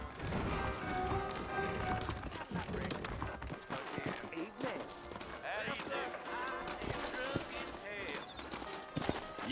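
Horses' hooves clip-clopping in Red Dead Redemption, set in New Austin, a running patter of hoofbeats mixed with game music, scattered crashes and a brief neigh, with characters talking over it.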